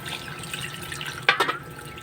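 A brief splash of water poured into a pot for sinigang, a short burst of liquid after quiet kitchen background.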